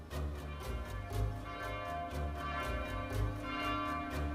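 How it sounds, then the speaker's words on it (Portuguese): A church bell tolls repeatedly near midnight in a steady rhythm, its ringing overtones sustained and overlapping, somewhat distant with a low hum beneath. "escutei o sino bater sem parar"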